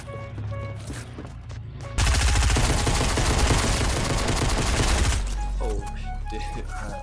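Rapid gunfire in the Fortnite video game, a dense burst of shots for about three seconds in the middle, loud over game ambience and music, with players talking around it.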